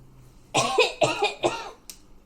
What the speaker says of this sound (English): I'm coughing. It's just sputtering up water.